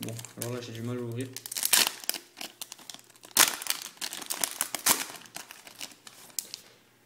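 Crinkling and tearing of a plastic Pokémon booster pack wrapper from a Korean Rising Fist booster box, handled in repeated bursts of rustling under a French-speaking voice.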